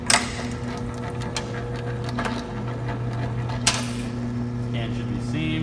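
A crowler can seamer runs continuously with a steady mechanical whir and hum, seaming a liquid-filled can, with a sharper clack partway through and the motor pitch shifting near the end; no one speaks.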